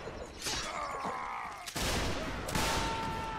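Musket volley fire in a Civil War game, two rolling crackles of massed shots, one near the start and a heavier one midway, followed by a dense rumble and echo, loud and close.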